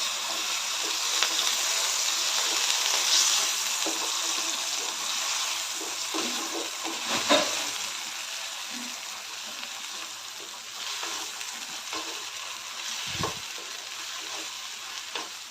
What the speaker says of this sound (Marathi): आता हे तेलामध्ये चांगलं परतून घेऊया